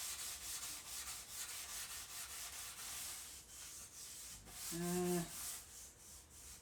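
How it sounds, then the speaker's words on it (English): Light scuffing of dried wood with a Scotch-Brite pad during bed-making woodworking, a steady rhythmic rubbing hiss of repeated strokes, close, with a short voiced sound partway through. "let's check and see. Looks like everything's pretty dry, so a quick light Scotch Brite here."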